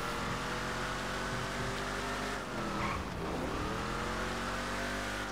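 Imponte Ruiner muscle car in a driving video game, engine roaring steadily while the tires skid and squeal, loud and continuous throughout with a dip in pitch midway.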